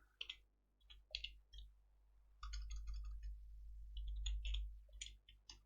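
Keys clicking on a computer keyboard while a formula is typed into Excel, with several short bursts of light taps separated by pauses over a low steady hum.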